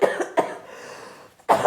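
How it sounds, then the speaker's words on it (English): A person coughs close up, several harsh bursts at the start, then a pause before another loud cough at the end. "Oh, I'm coughing, I might have to end"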